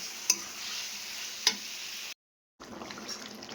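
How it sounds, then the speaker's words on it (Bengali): Potato curry sautéing in a pan gives a steady, close sizzle with two sharp utensil clicks against the pan, then a brief dropout before the frying resumes. "দেখো এবার বেশ খানিকক্ষণ আবার কষাবো"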